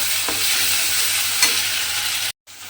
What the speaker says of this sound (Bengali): তেলের মধ্যে দিয়ে একটু কষিয়ে নেব